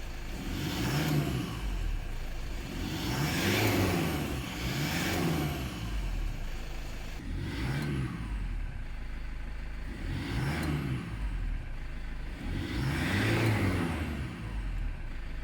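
A Toyota Sportcruiser engine, just after its airflow sensor was cleaned, runs close by and is revved about five times in a steady rhythm. The rising and falling surges sit over a constant idle, with no talking.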